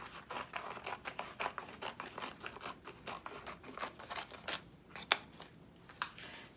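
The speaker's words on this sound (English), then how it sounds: "I'm going to take my scissors, and as you can see, I have some extra vinyl down here, so I'm just going to cut that piece off" Scissors snip off excess craft vinyl in a quick series of crisp, close cuts, with a louder snap near the end and no talking.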